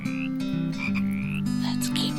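A frog at a pond croaks repeatedly in steady, loud, close calls, with a higher chirping trill layered above and no talking.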